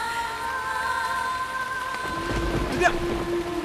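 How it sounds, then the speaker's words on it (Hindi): Steady rain hiss fills the scene for the whole stretch, with a low rumble and a brief sharper burst near the end; tonal music-like lines run underneath. "विद्या बारिश हो रही है, अंदर आओ।"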